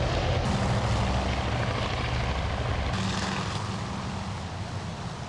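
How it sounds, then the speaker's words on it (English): Aircraft taking off in the naval strategy game Task Force Admiral, a steady droning roar of propeller engines that holds loud and broadband for several seconds before easing slightly. "the last of our aircraft are about to be airborne"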